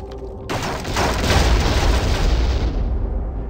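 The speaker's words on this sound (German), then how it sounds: "Also eine große Explosion ist hier nichts Cooles gewesen." Large explosion in the video game Dungeon Siege, a sudden loud booming blast with a dense rumbling roar that sustains and slowly fades over a few seconds.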